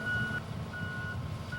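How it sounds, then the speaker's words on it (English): A crawler excavator's steady electronic travel alarm beeps in long repeated tones over a low idling engine rumble. "Do an operational check to make sure your travel alarm"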